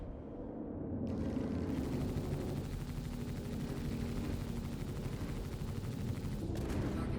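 A sustained weapons volley from a Super Hornet Mk II starship in Star Citizen, a dense continuous roar of rapid fire that kicks in sharply and runs loud and steady for several seconds.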